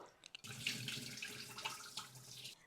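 Dried mutton pieces are swished and rinsed by hand in water in a kitchen vessel, giving a close, steady run of splashing and sloshing for a couple of seconds with no talking.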